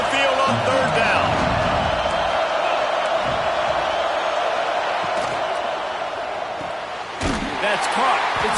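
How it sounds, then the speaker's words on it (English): A home crowd roars steadily through a third-down football play, a dense loud wash of cheering and noise that dips briefly then surges again near the end. "Here comes this home crowd as the defense tries to get off the field on 3rd down."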